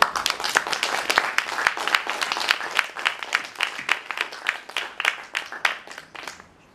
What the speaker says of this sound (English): So let's give a round of applause to Dr.